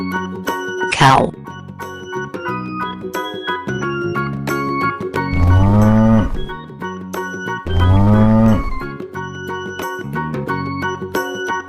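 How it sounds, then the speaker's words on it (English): A cartoon cow moos twice in a children's animal video, each long low call standing out over bright, steady background music with jingling tones. "Cow."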